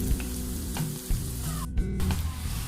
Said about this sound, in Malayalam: നമ്മുടെ ചിക്കൻ പീസൊക്കെ നന്നായി ഫ്രൈ ആയിട്ടുണ്ട്.